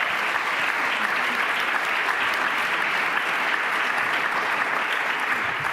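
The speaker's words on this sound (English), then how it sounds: "So warm applause also for Kunul and for Sana." An audience at a European Citizen Science Association conference closing ceremony gives warm, steady applause, a dense, even wash of many hands clapping without pause for the whole stretch.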